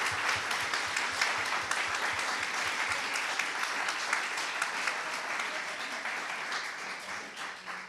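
An audience applauds guests after a talk event, a steady wash of many hands clapping that continues evenly and tapers slightly at the end.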